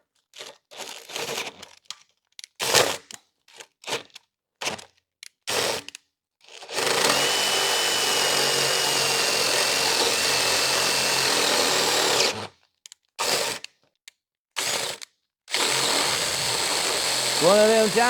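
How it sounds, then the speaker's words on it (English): A giant drill bit bores through a carburetor, with a loud, continuous grinding whine lasting several seconds, then a second shorter run, separated by quiet pauses with bits of handling noise and scraping. "there's nothing quite like the opportunity to take a giant drill bit and run it through your carburetor"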